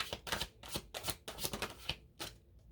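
Tarot cards riffle and slap together in quick repeated bursts, about seven shuffles in a steady rhythm, close and fairly quiet.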